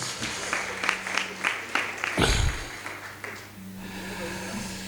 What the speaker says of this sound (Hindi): मैं उन लोक कलाकारों के लिए भी एक तालियां आमंत्रित कर रहा हूँ।